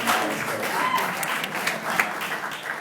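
Wedding guests clap together during a reception speech, a steady, fairly close spread of many hands applauding with a few sharper claps, and some faint voices underneath.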